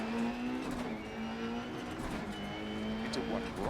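Rally car engine in Dirt Rally 2.0, droning steadily through a shifting pitch with tire noise during a handbrake power slide, with someone talking over it throughout.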